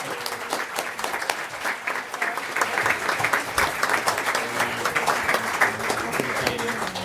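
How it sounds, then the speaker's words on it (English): An audience at a regular session breaks into sustained applause, a thick, continuous roar of many hands clapping for about seven seconds, with a few louder individual claps standing out. "Everybody, a round of applause for Cora Wright."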